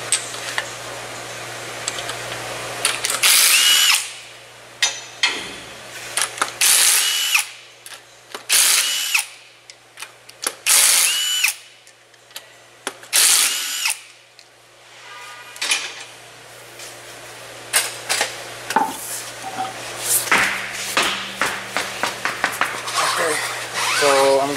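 Power tool whirring in short bursts while tires come off a 2007–2012 Hyundai Santa Fe, with loud spins separated by pauses, clanks of parts and someone talking in between.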